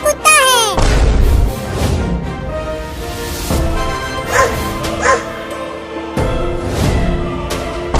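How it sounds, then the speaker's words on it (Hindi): Cartoon dog barking and yipping loudly in repeated sharp bursts, with whimpering tones between barks. "देखो तुम्हारे पीछे कुत्ता है।"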